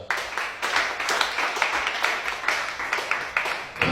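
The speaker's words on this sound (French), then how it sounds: "Acclamation." A church congregation applauds steadily for about four seconds, dense clapping with rhythmic surges and no voices above it, fairly loud and close.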